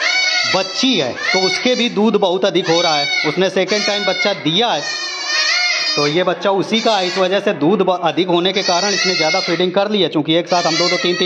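Young Jakhrana breed goat kids, freshly overfed with milk, bleating repeatedly in the background while someone talks steadily over them.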